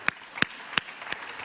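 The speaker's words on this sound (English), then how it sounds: "all the over 30s are clapping." A few scattered hand claps from the audience at a Goalkeepers 2018 gathering: five sharp, isolated claps at an even, unhurried pace, fairly faint, with no talking.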